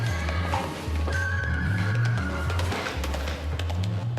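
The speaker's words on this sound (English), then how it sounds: "The horses are skittish" Skittish horses whinny inside a barn, a rising neigh standing out over a steady low rumble and scattered thumps of movement, fairly close and continuous throughout.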